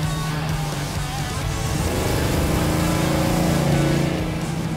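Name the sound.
V8 Corvair drag car driving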